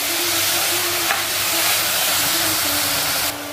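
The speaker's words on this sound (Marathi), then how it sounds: "फास्ट फ्लेम वरतीच आपल्याला हे सर्व परतून घ्यायचं आहे।" Dried shrimp (javla) and eggplant stir-frying over a high flame, with a steady loud sizzle and hiss and ongoing stirring scrapes throughout, and no voices.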